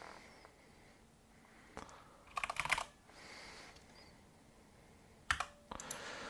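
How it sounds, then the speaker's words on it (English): Typing on a computer keyboard while entering code in a Visual Basic app, heard as two short bursts of soft, close key clicks with quiet pauses between them. "We're just gonna type here frm"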